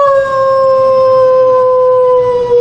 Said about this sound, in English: the sound of a wolf at a short distance